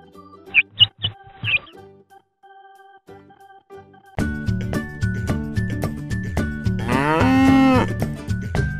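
A cow moos amid cheerful children's cartoon music, with short animal calls early on followed by a loud, continuous musical passage.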